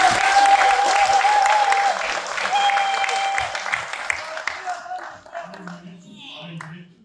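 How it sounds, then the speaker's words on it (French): Applause from a Congolese community gathering honoring Philippe Claus rings out, strongest at first, then thins and fades away while voices carry on. "demander les derniers applaudissements pour Philippe Claus."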